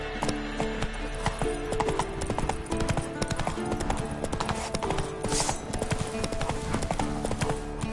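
A horse gallops with loud, rapid, rhythmic hoofbeats clip-clopping continuously and close up, without a break from start to finish.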